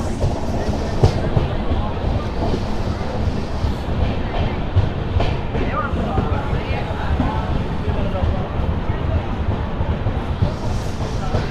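An Intercity SF Express train pulls into crowded Mangalagiri station, its steady rumble and rattling wagons running throughout, with a hubbub of waiting passengers' voices mixed in.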